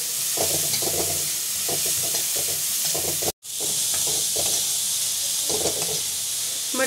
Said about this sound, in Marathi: आणि ही मटकी आपण ह्याच्यामध्ये टाकून घेऊ. त्याला व्यवस्थित हलवून घेऊ.